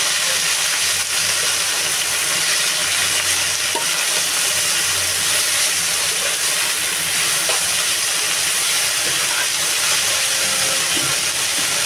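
Red amaranth leaves hit a hot pan and fry with a continuous loud sizzle and steamy hiss, close up, holding steady throughout.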